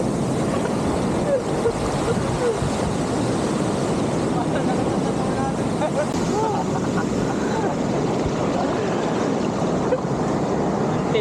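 Strong ocean surf crashing and churning along a shore during a bikepacking trip in Dingalan, a dense continuous roar with wind buffeting the microphone throughout.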